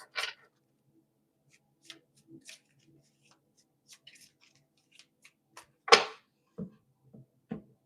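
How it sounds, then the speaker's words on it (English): Tarot cards being shuffled by hand, sparse soft riffling and tapping bursts with a sharper snap near the end, close and quiet with no talking. "All right, last shuffle."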